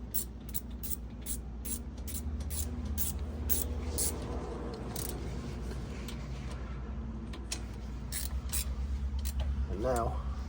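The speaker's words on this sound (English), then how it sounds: "So I'll run these down with the old manual" Manual impact wrench running down brake caliper bolts on a Dodge van in a garage, giving a steady mechanical ratcheting and clanking with sharp repeated metallic strikes throughout, fairly close.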